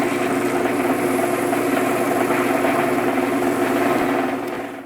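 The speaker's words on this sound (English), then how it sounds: "then we'll spin that relatively fast speed and we'll denib this" Steady, fairly loud whirring hum of a wood lathe turning a highly figured spalted oak bowl at about 1200 RPM during denibbing, continuous and close, easing slightly at the end, with no voices.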